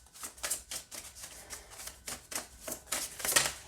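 A deck of oracle cards is shuffled by hand nearby, a quick series of crisp riffling flutters and soft card snaps repeating in irregular bursts.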